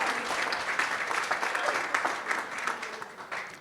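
Steady applause from a wedding crowd during a best man speech, many hands clapping continuously at a fairly even level throughout.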